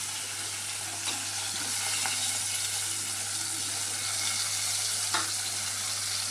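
Coriander, curry leaves, pounded pepper and tomato sizzle in hot oil for pepper rasam, a steady quiet frying hiss with a few sharp stirring clicks and scrapes, heard close and without speech.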